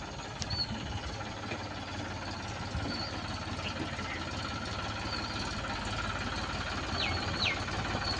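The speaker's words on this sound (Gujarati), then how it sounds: "ટ્રેક્ટર લઈને આવી ગયા" A farm tractor idles in a field, its engine putting out a steady low throb with faint knocking, medium-close and continuous, with a few faint chirps above.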